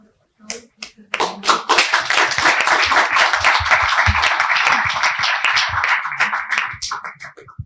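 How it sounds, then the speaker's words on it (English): A conference audience at a food and beverage event in Kuwait breaks into a dense round of applause that runs for several seconds at steady, fairly loud volume after a few scattered early claps, then thins out at the end. "Round of applause."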